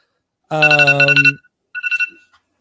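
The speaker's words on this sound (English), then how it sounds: "There's your alarm." A phone alarm ringtone plays a short bright electronic melody, stops, then sounds a shorter burst of chiming tones, clear and fairly loud against silence.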